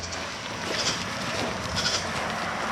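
Farm goats bleat loudly and close up, their cries overlapping almost continuously over a busy outdoor background with no clear talking.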